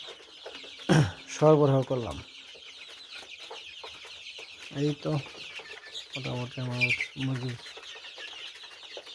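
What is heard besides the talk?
broiler chickens clucking on a poultry farm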